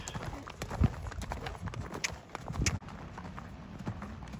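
A huge, panicked horse runs off, its hooves clip-clopping in an uneven, quick rhythm with a few heavier thuds, fairly close over a noisy outdoor background.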